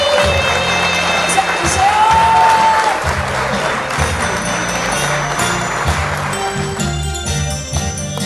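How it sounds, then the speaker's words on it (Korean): Audience clapping at the outdoor Yangsan chrysanthemum festival, loud dense applause from a crowd over a steady band accompaniment, thinning toward the end. "박수 한번 쳐보세요"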